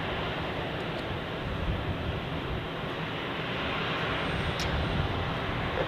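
An airliner rolls on runway 28 at Zurich Airport, giving off a steady, broad jet roar that holds at an even, moderate loudness and sounds somewhat distant.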